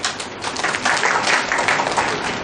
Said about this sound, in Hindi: तो शक्तिमान दादा का तालियों से स्वागत हो।